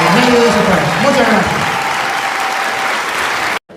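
Church congregation applauding during a service, dense and loud continuous clapping from a large crowd for several seconds, with a faint tone underneath, then cutting off abruptly near the end.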